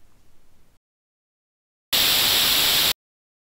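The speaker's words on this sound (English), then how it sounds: "Let's listen to the white noise for the N2 frequency of 9 kHz." A one-second burst of bright, full-band white noise rendered as 3D binaural audio with an N2 notch frequency of 9 kHz, starting abruptly after silence and cutting off cleanly, loud and steady.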